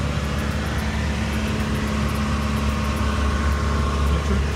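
A three-cylinder pump on a crop spray unit runs steadily, a loud, constant mechanical hum with a low throb and no pauses.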